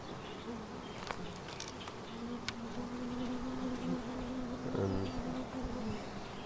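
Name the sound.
honey bees buzzing around an open beehive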